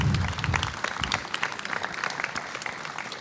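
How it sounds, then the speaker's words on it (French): Audience applause after a talk on frugality, a dense patter of clapping from a seated crowd that starts strong and holds steady before thinning slightly toward the end. "Est-ce que vous voulez bien applaudir Amélie ?"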